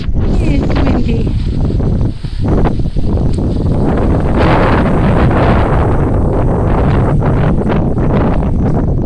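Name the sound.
wind blowing on a nature walk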